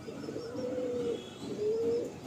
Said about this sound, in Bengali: কালসিরা পায়রা।